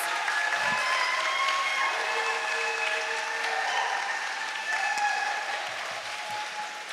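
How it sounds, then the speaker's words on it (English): Sustained applause from an evening audience at an outdoor spoken word event in a sculpture park, moderately loud and even, with faint voices and some whistling tones drifting through before it thins near the end. "let's give our performers a big round of applause."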